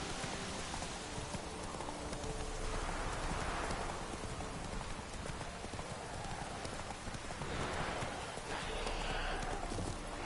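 Roach the horse gallops in the video game The Witcher 3, a fast, rhythmic clip-clop of hooves running continuously and fairly close, with faint rain-like hiss behind it.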